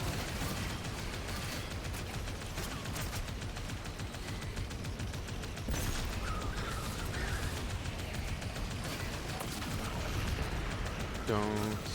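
Rapid, sustained gunfire in a shooter video game, dense crackling bursts with explosive booms filling the scene continuously, loud and chaotic, with a voice speaking over parts of it.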